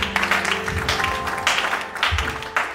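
A church congregation clapping together during a service, a broad moderately loud patter of many hands rising and falling in swells across the room, with a little voice sound mixed underneath.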